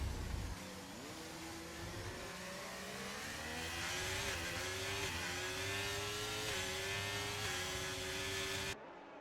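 F1 cars in a racing video game at Bahrain, an Alfa Romeo and a Ferrari battling on track, engines droning high and steady with rising revs and gear shifts, loud and sustained until cutting off abruptly.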